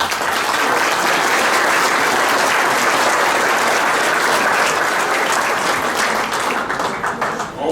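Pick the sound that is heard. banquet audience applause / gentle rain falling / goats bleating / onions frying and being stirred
banquet audience applause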